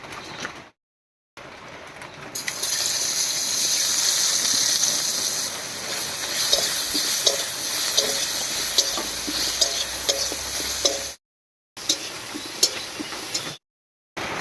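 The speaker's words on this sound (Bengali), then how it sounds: "মাছ ভাজার এই তেলের মধ্যেই ফোড়ন দেব আর ফোড়ন দেব শুধু পেঁয়াজ কুচি দিয়ে" Chopped onion sizzles hard in hot oil left over from frying fish, a steady bright hiss that runs loud and continuous with small crackles, broken by a few short silent gaps.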